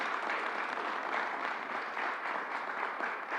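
Steady audience applause at a public event for a state vaccine outreach briefing, dense continuous clapping from a crowd that holds an even level throughout without a break.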